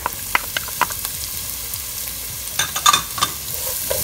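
Green chilies, garlic and ginger fry in a pan with a steady soft sizzle, broken by several sharp clinks and scrapes of stirring that cluster toward the end.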